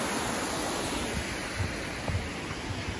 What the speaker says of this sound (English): That is not Westmorland Falls, that's just a smaller cascade.